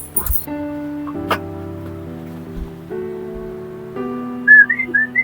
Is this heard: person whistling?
yes